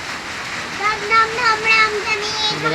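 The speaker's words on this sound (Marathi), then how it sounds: "पाऊस लयच मोठा आहे बघा." Heavy rain in town near a petrol pump, a steady hissing downpour that runs beneath someone speaking close by.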